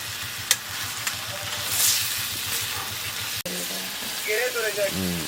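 Chicken pieces fry in oil in a pan as their water cooks off, giving a steady sizzle with a low bubbling pulse, a clatter midway and a spatter of louder crackles near the end.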